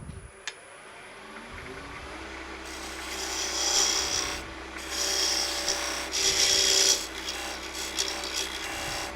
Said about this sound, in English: It's a little dovetailing tool, so I'm just going to put a dovetail into there.